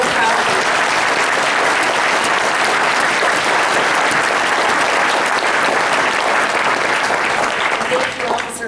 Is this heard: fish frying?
no